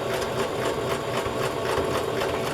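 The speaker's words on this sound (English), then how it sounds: "So I'm just zigzag stitching the embroidered piece to the fabric." A sewing machine zigzag stitching an embroidered piece onto fabric for a journal pocket, running steadily and close up with a continuous mechanical whir and a rapid rattling needle rhythm throughout.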